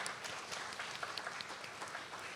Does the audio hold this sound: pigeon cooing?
no